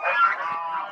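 Geese standing in floodwater in a rain-soaked vegetable garden give a brief, close, loud honking call lasting about a second.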